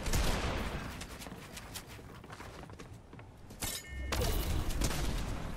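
Rapid bursts of gunfire from a Fortnite Recharge battle, a dense rattle of repeated shots that dips slightly in the middle and then swells back up loud, with no voices.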